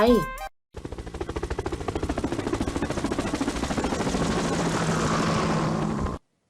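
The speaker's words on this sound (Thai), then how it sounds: "เสียงเฮลิคอปเตอร์นั่นเองค่ะ" A helicopter's rotor beats in a fast, steady pulsing chop, loud and near, continuing for several seconds before cutting off abruptly.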